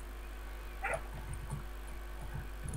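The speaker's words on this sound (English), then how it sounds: "I can still hear that dog." A dog barking in the video game Minecraft, faint and distant: a few short yips and barks over a low background hum.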